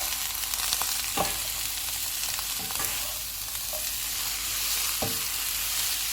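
Vegetables cook in a pan with salt and soy sauce, a steady broadband sizzle running throughout with a few brief scraping stirs of a utensil against the pan; no voices.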